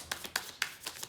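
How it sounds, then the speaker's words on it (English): A deck of tarot cards is shuffled by hand in a few soft, quick riffling bursts, close and faint, with no talking. "Last shuffle that I take from the middle."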